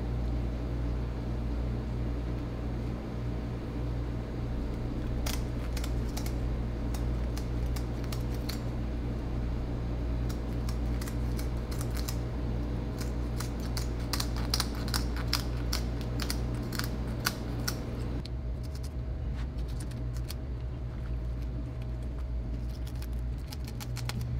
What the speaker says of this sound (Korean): 이런 식으로 가위를 이용해서 지느러미를 잘라주시면 됩니다.